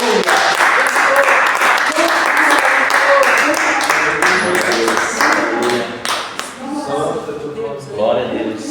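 Clapping from a church congregation rises and falls under a prominent voice speaking or singing praise, with sharp rhythmic claps scattered throughout.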